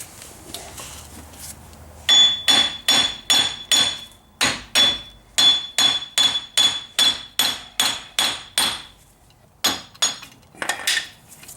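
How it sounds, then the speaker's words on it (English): Repeated sharp metallic hammer strikes on the axle of a 1999 Jeep Grand Cherokee Laredo ring out in a steady rhythm, about twenty blows with a few short pauses, close and loud. "So grab a hammer."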